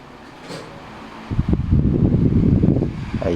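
A repaired electric fan, fixed after its thermal fuse opened, switches on at speed 1 partway through, its steady whooshing airflow and motor hum rising abruptly and running loud and close to the end.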